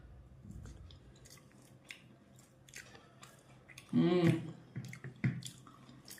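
Close, soft, moist chewing of Kerala puttu made with coconut, quiet bites and mastication that grow louder near the end, with brief speech mixed in.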